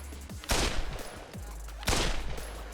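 An M4 rifle in the Pavlov VR video game fires on single shot: two loud, close reports about a second and a half apart, each trailing off in a ringing tail.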